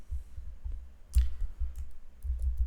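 Several computer mouse clicks come in short, sharp, close taps, a handful spread irregularly over a quiet background.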